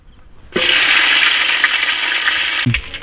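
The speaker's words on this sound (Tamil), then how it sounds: "முதல்ல பாத்திரத்தை வச்சு எண்ணெய் ஊற்றிப்போம் செக்கில் ஆட்டின சுத்தமான கல்லெண்ணெய்" Oil rushing into a hot cooking pan sets off a sudden loud, steady hiss and sizzle that holds for about two seconds before cutting off abruptly, close and alone without talk.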